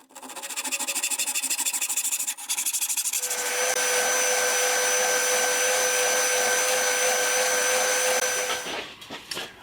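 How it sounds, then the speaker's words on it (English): Guitar body wood is shaped on a belt sander, a loud close continuous abrasive rasp with a steady motor whine that shifts in pitch as the piece is pressed, then fades as it is lifted away. "cut it straight across and then shape it on the belt sander"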